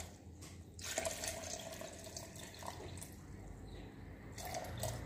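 Water poured into a strawberry and lemon fruit juice mixture before blending, a faint, steady trickling stream with small splashes, quiet and heard alone.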